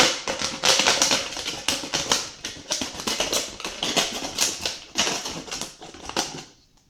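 A plastic bottle is cut, giving a rapid run of close, crisp crackling snaps that fade out at the end.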